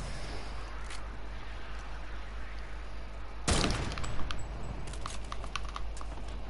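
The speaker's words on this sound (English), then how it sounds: "Should I shoot an RPG?" A rocket-propelled grenade launcher fires in a video game with a sudden broadband blast and rushing burst, followed by a scattering of sharper cracks and clicks over a steady background hum.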